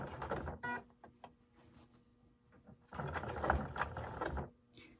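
A sewing machine stitching elastic into doll bloomers runs in two short bursts of rapid mechanical whirring, quiet and close, with a pause and a few faint clicks between them.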